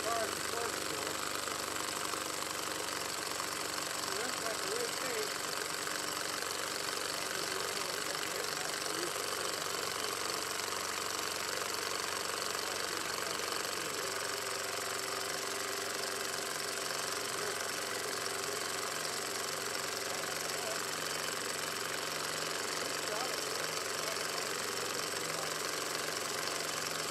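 A miniature homemade steam engine with a flywheel runs steadily, giving a continuous mechanical hum with a fast rattling, knocking rhythm that stays even and close throughout.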